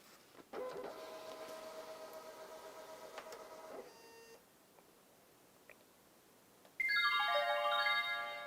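An electronic voting machine takes in a red closing card with a mechanical whir and a tonal buzz. After a pause, a loud, bright chirping of electronic beeps follows, and no one speaks.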